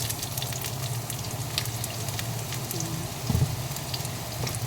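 Onions fry in a pan after garlic with a soft, steady sizzle, a faint crackling hiss running throughout and a brief scrape or bump near the end, fairly quiet and without voices.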